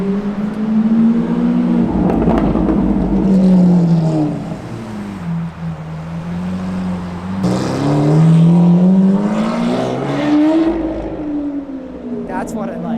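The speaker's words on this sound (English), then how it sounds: "I could hear that exhaust any day." A Range Rover SV's exhaust revving nearby on a Los Angeles street, rising and falling in pitch over several swells while people talk over it.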